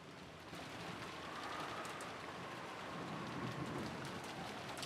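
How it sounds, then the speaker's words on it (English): Steady rain in the Umineko visual novel game, a continuous even wash of falling water with no voices, holding at a constant moderate level throughout. "Still raining."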